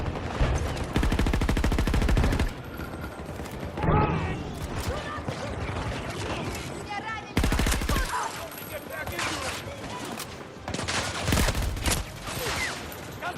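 Dense, loud bursts of rapid gunfire with heavy bullets in a video game, sustained volleys broken by short gaps, with game sound effects layered in.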